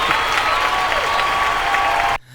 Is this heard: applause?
yes